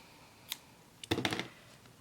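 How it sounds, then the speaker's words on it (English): Scissors snip through crochet yarn: one sharp click, a short pause, then a quick burst of several close, quiet snips with no talking. "So I'm gonna cut my yarn now"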